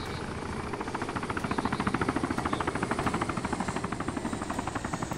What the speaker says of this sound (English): And we got a helicopter.